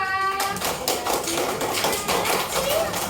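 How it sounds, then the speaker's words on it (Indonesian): A classroom of young children clapping together for group 5: dense, steady clatter of many small hands throughout, with a few faint voices mixed in. "Kasih tepuk tangan kelompok 5"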